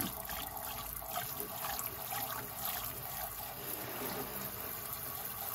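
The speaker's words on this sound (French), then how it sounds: "Il faudrait qu'on puisse rincer jusqu'à obtenir de l'eau claire." Plant-dyed fabric is rinsed in water during a vegetable dyeing workshop, giving a steady faint trickling and sloshing that continues throughout.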